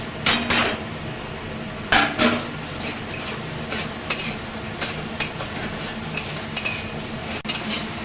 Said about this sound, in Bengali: আমি ডালটা এবার এই তেলের মধ্যে দিয়ে দেবো,